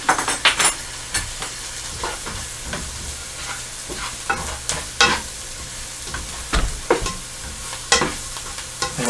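Minced garlic fries and sizzles in a pan, with a continuous hiss broken by repeated sharp scrapes and clicks of a utensil stirring against the pan.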